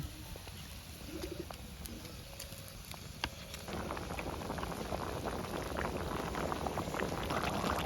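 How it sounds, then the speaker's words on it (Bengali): Fish curry broth with snakehead fish and potatoes boils steadily in a pot, a dense bubbling hiss that swells after a few seconds, while birds coo and chirp faintly in the background. "ঝোলটা উতলাই গেছে"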